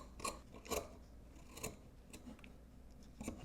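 Scissors trimming sewn fabric seam allowance down close to the stitching, several crisp snips in an uneven rhythm with soft rubbing of cloth between cuts, close and moderately quiet, no talking.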